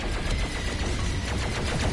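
Rapid, loud gunfire from the DOOM Eternal shooter, a dense continuous barrage of shots filling the whole moment with no pauses.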